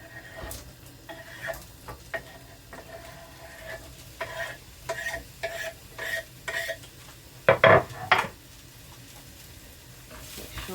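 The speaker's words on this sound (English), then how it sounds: "now that garlic is just starting to sizzle" Garlic and vegetables sizzle and crackle in a pan with a steady hiss, punctuated by utensil scrapes and clinks against the pan and a louder clatter near the end.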